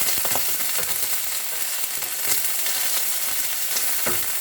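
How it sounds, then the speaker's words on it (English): Steady, loud sizzling of kidney frying in hot ghee, a continuous crackle with scattered pops and no voices. "Just put your kidney in the butter."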